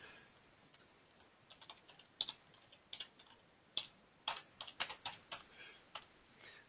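A postal code is typed on a computer keyboard, with quiet, uneven key clicks tapping out in irregular bursts close by, without speech.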